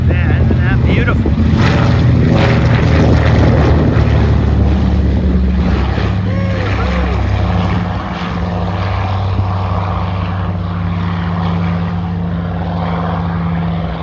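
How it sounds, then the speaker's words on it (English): Loud, droning radial engines of a PBY-5A Catalina flying boat on its takeoff roll, a steady heavy propeller roar with pulsing harmonics that dips slightly partway through, heard close and continuous. "Flying boat. Catalina is on that takeoff roll. Listen to this."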